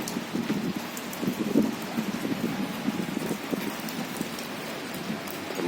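Heavy rain pours steadily on a house's back terrace in strong wind, a loud, dense, unbroken hiss of drops with no voices.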